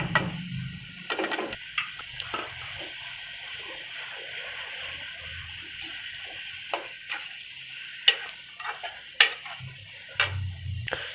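Tomatoes and crushed green chilies fry in a pot for chicken biryani, giving a faint, steady sizzle with scattered clinks and scrapes of a spoon on metal, and a sharper knock near the end.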